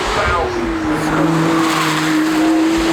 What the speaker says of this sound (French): this is a brand new model from Lamborghini. It's their second hybrid.